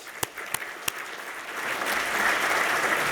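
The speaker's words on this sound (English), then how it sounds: "Let's give him another round of applause" Applause at an industry awards dinner starts with a few separate sharp claps, then swells into full, steady clapping from a large audience that stays loud to the end.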